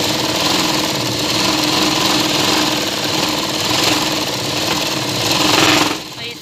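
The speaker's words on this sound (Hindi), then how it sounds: "फिर फिर से हम एक और सिलाई यहाँ पर लगाएंगे।" A sewing machine runs steadily while stitching a kurti, a loud, close, continuous mechanical whir with rapid needle rhythm that cuts out near the end.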